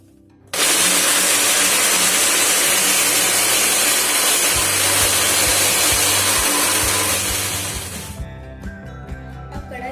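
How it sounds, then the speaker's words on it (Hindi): An electric mixer grinder whirs loudly and steadily as it grinds soaked ingredients into a puree for dhaba-style shahi paneer, starting abruptly, running for about eight seconds, then cutting off and winding down. "हम उसे ग्राइंड करके इसका प्यूरे बना लेंगे"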